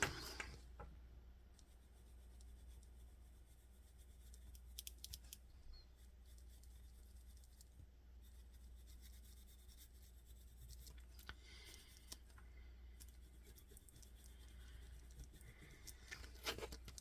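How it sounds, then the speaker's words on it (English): A Faber-Castell black pencil drawing a border on paper, with soft, faint scratching and rubbing strokes that come and go over a low steady hum. "It's a Faber-Castell black pencil."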